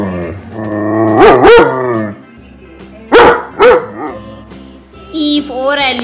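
A dog barks in several short bursts, a pair early on, another pair in the middle and a final run near the end, loud and close against a quiet background.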